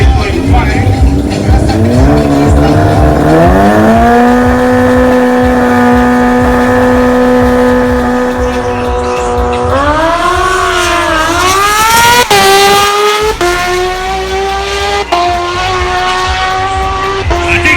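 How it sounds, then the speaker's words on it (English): A Kawasaki H2 motorcycle on a record run at a racetrack, its engine loud and close, rising through long sustained pitch sweeps with gear changes and a brief dip before climbing again. "Mr. Costa is going again to try to better his time earlier"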